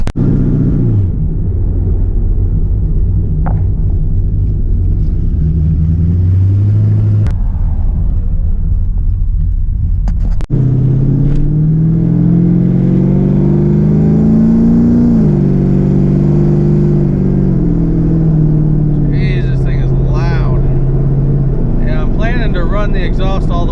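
A Z28 Camaro with a swapped transmission and Yank torque converter cruises, its engine droning low and rumbling up through gears with rising and falling revs, close and loud from inside the car, with brief sharp clicks and faint chirps.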